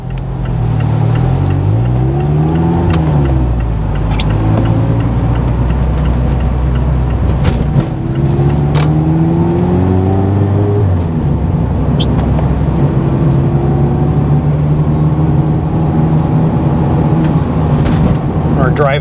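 A Mazda Miata cruises through Astoria, Oregon, its engine droning steadily from inside the cabin with rising and falling notes through gear changes, while a person talks over it throughout.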